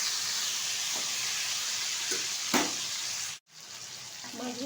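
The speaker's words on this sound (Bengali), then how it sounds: "এখন আস্তে আস্তে করে হালকাভাবে একটু ভেজে নেব কড়াইয়ের মধ্যে দিয়ে।" Boal fish frying in oil in a wok gives a steady, close sizzling hiss with a few brief crackles. The sizzle cuts out for a moment near the end, then resumes.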